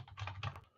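Fingers tap quickly on a computer keyboard, giving a close burst of soft clicks lasting under a second.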